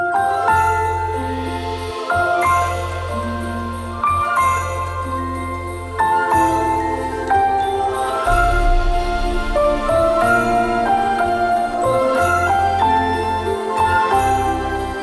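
Festive Christmas orchestral music layered with jingling bells over sustained strings and a steady low bass, playing continuously at full volume.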